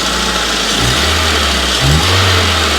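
A car engine idles steadily up close, smooth and loud, with two brief blips in revs; the condenser fan has just been switched on, and no voices are heard.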